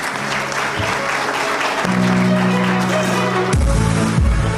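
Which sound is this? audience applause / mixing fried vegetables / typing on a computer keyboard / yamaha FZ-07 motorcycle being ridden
audience applause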